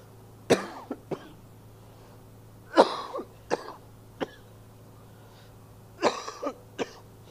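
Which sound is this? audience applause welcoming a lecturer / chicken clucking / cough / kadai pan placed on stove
cough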